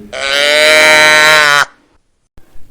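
A loud, drawn-out cow moo sounds close by, a single sustained harmonic call lasting about a second and a half, then quiet with a faint noise at the end.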